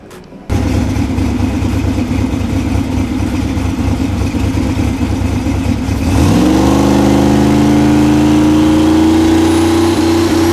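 A Cadillac CTS-V with wastegate dump pipes holds a loud, steady two-step launch rev close by, a harsh buzzing drone that suddenly climbs in pitch and stays high near the end.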